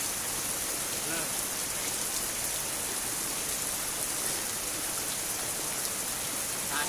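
Steady, dense rain pours down during a car wash outdoors, a loud, unbroken hiss of falling water throughout.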